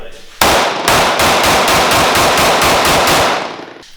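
Rapid burst of gunfire from a Sig P365 pistol, a dense string of about nine close, loud shots in quick succession, fired with a loose grip.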